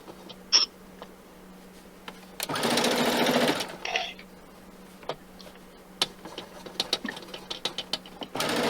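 A sewing machine stitches fabric during a fat-quarter quilting race, with one loud run of rapid stitching lasting over a second, then scattered clicks, ticks and handling noises nearby, no talk.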